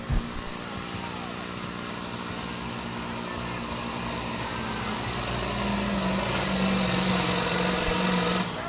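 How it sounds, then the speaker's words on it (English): A pulling tractor drags the sled at a pro pullers league tractor pull. The engine roars steadily and loudly and builds slightly toward the end, with no break over the whole stretch. "Dragging the sled in the box, and a whole lot of love right there, Robert Crowder"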